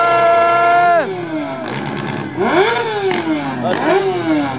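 At a tuning show's rev-limiter contest, an engine screams up and bounces hard against its limiter, then drops and climbs again in repeated loud revving bursts, close by and dominating the scene.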